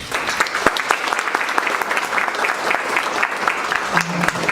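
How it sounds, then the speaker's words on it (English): Audience applause at a book talk event in Korea: dense, steady clapping from a seated crowd that fills the whole stretch at an even level, with no talk over it. "Ladies and gentlemen, please give a round of applause."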